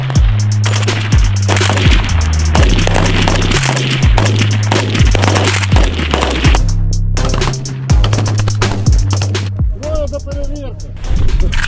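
Continuous loud bursts of gunfire at a military training range, rapid shots overlapping into dense booming volleys, close and sustained throughout.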